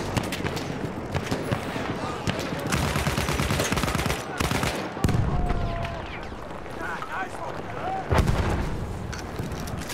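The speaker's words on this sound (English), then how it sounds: "Bomba atıyorum, çabuk olun." Battlefield 1 combat: dense gunfire and heavy booming artillery and bomb explosions, loud and continuous, with bursts and rumbling blasts, while a voice talks over the din.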